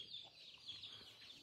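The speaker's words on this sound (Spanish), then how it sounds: "Dale de comer a las gallinas." Chickens cluck on a ranch, a faint and steady murmur of hens that sounds fairly distant and continues throughout with no voices over it.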